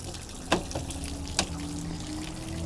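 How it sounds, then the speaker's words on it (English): Water drains from a camper's Suburban water heater in a continuous splashing trickle. Two sharper splashes or knocks stand out against the flow. "If you pull it out all the way, you're going to get a huge gush of water coming out."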